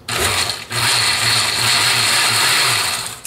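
A food processor pulses pesto cream sauce ingredients, a loud, steady motor whir that runs nearly the whole time, with one brief dip early on before it restarts, close and without any talking.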